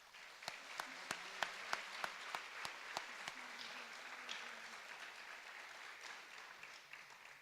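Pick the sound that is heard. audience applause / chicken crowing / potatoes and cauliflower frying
audience applause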